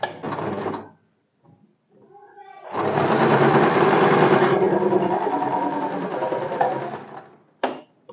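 A sewing machine cross-stitches the lining of a four-tuck blouse. A short burst is followed by a pause with faint handling, then a long, steady run of fast stitching and one final quick burst.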